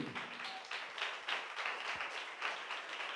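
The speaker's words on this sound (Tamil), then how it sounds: "நல்ல கைத்தட்டி." A church congregation claps together, a dense, sustained wash of applause that swells in uneven pulses and stays fairly close.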